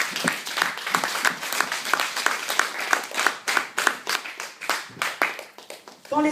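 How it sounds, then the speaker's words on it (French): A church congregation claps and cheers in praise of the Holy Spirit, with steady, dense applause that rises and falls over about six seconds and no talk over it. "Est-ce qu'on peut acclamer pour le Saint-Esprit?"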